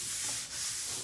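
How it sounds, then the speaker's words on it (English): Light hand sanding of a painted oak dining table top with a 220-grit foam sanding pad: a steady, soft, close scratchy rubbing that runs throughout with a brief dip midway. "So I just have a 220 little foam sanding pad, and I'm just going to give it a light sand."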